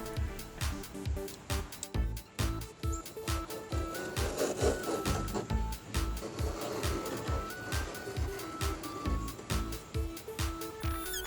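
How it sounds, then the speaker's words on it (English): A Dremel tool with a cutoff wheel cuts into fiberglass during work on a stock radiator, giving a loud, continuous, rhythmic grinding rasp that pulses steadily as the wheel bites through the material. "here I'm using a Dremel tool with a cutoff wheel to cut the fiberglass"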